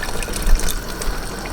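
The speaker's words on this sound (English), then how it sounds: "Okay, so I have a cup of water here, but I'm only gonna add in half the cup." Half a cup of water is poured into a pot of noodles, a short close splashing rush with faint clatter and no voices.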